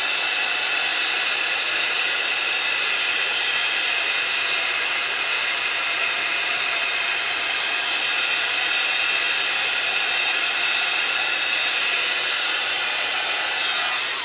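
An electric heat tool blows a steady, loud whooshing roar, unbroken for many seconds, while heating embossed regular cardstock, close to the listener with no speech.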